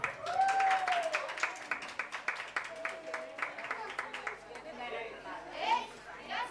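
Clapping from an audience at a children's cultural festival in an apartment complex, applauding a child performer; scattered hand claps mixed with crowd chatter and voices, moderately loud and busy throughout.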